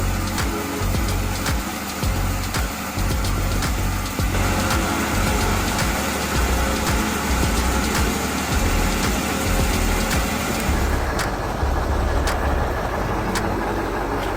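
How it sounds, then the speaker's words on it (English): A Ural Polarnix truck with an OMZ 238 engine stuck deep in thick mud, its engine droning loud and continuous with a steady low rumble that thins slightly near the end. "the Ural Polarnix wheels with the OMZ 238 engine are still deeply stuck in thick mud"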